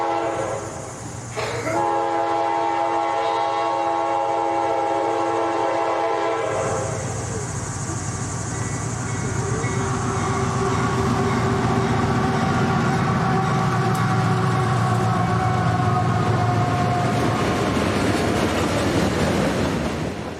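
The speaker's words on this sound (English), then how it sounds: "this BNSF manifest is being led by a pair of CSX locomotives" A BNSF freight manifest led by a pair of CSX AC60CW locomotives rolls past at Rochelle, opening with a loud, sustained horn blast, then a long steady rumble of engines and cars.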